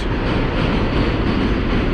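A Manhattan subway train passes underground beneath the street, a loud, steady rumbling roar that stays even throughout, with no voices.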